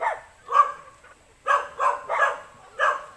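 A dog barks about five times in short, fairly close bursts with brief quiet gaps, without talk.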